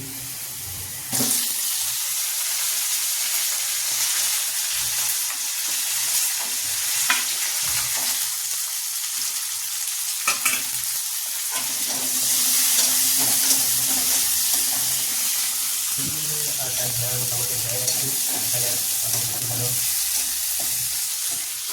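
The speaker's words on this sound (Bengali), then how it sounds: "আর এখানে এগুলো আর পেঁয়াজ ভাজছি" Onions, potatoes and egg fry in a pan with a continuous close sizzle, broken by scraping stirs and clinks of a spatula, plus a stretch of running tap water partway through.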